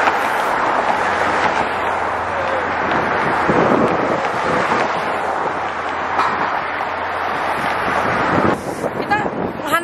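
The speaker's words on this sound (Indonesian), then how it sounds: "Kita menghantam angin ini, angin dari situ." Strong wind beside a bridge in New York buffets the microphone in a constant loud roar with gusty swells, broken near the end by a few brief knocks and rattles.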